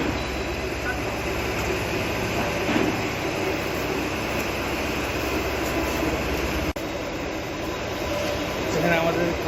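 Constant loud industrial roar of a railway car shed at Santragachi where trains are being repaired, a dense steady mechanical din throughout with a brief dropout midway.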